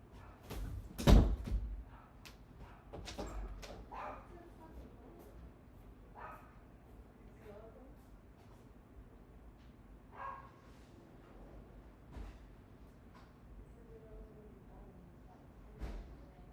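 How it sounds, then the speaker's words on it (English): A dog barks outside an open window, one sharp loud bark early on followed by a few fainter, scattered barks over a quiet indoor background. "dog barking. Close the window."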